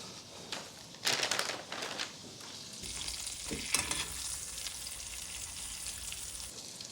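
Two center-cut salmon fillets searing in melted butter in a skillet, a steady close sizzle and crackle with a few louder spits and scrapes, no talking.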